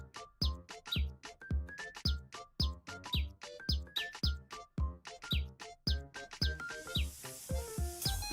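Repeated bright chirps from a blue wren perched on a windowsill, a steady run of short calls about twice a second, close and clear, with a hissy wash rising near the end.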